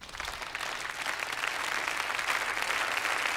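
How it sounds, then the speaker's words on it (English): An audience in a film scene breaks into steady applause, a dense wash of many hands clapping that builds slightly and holds at a moderate, slightly distant level without speech over it. "how dare y'all clap for this man?"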